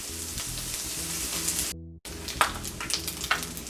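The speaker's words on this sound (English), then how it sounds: "Get your sausage good and cooked up." Sausage sizzles steadily in a hot frying pan, a close, crackling hiss with scattered pops, broken once by a short gap of silence.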